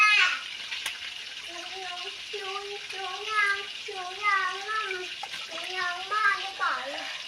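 Fish are rinsed by hand in clean water, several rounds, with soft continuous splashing and sloshing in the background while someone talks steadily over it.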